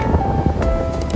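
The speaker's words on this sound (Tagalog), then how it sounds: "Nakikita nyo sa video, ang lakas talaga ng hampas ng alon." Strong waves crash against a small port on Sibuyan island, Romblon, producing a dense, continuous roar mixed with wind noise buffeting the microphone, loud and close, with no speech.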